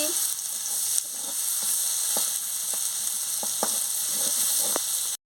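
Poppy seed paste sizzles and fries in a pan with green chillies added for a potol-aloo posto, a steady broadband hiss with a few sharp ticks and pops scattered throughout, no talking.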